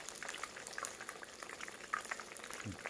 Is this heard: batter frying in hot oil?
yes